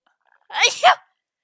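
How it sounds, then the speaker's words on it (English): A single sneeze, close and fairly loud, with a quick breathy burst and a short second push, surrounded by silence. "I have to sneeze."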